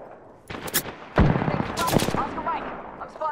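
Gunfire in a battle royale game: bursts of rapid, loud shots with sharp cracks, a heavy blast just over a second in, and further volleys after it.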